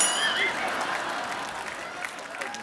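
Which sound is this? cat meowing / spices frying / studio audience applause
studio audience applause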